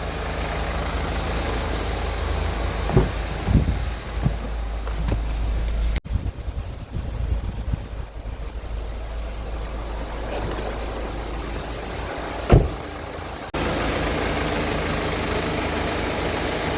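A car engine idles steadily in a workshop while the air conditioning compressor, checked for a fault, is switched on, adding load, with a few clicks and a sharp knock over a continuous low hum and a shift in tone partway.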